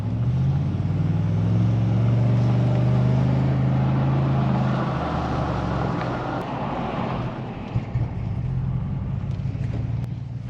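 A Ford Raptor truck engine rumbles steadily with a deep, low valved-exhaust burble on downshifts that eases and shifts partway through, with some wind noise over the microphone.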